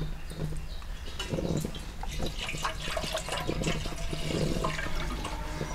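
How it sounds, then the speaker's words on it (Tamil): Milk poured in a steady stream into a vessel while making a sweet, a continuous close liquid splash and gurgle that fills the whole stretch without speech. "பாலை ஊற்றுரும்."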